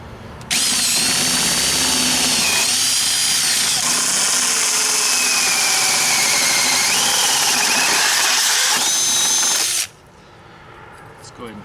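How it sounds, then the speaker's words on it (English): A power drill bores a large hole in a travel trailer: a loud, continuous high whine runs about nine seconds, pitch wavering under load, then cuts off abruptly. "now we're ready to drill our major hole"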